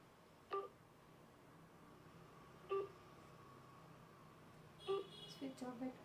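Several short electronic phone keypad tones beep at spaced intervals as a number is dialed, ending in a quicker cluster, faint over a quiet background.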